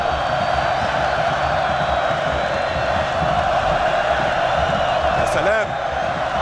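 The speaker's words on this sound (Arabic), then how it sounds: "الملعب اشتعل، ما أروعه من صوت جماهير" Football fans in a Syrian league stadium cheer after an Al-Karamah goal against Al-Ittihad, a loud continuous roar with chanting and a brief high whistle-like sound near the end.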